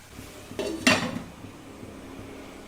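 A spoon scrapes and clinks against a pan while onions sauté in butter for garlic mushrooms, two quick metallic knocks standing out over a faint, quiet sizzle.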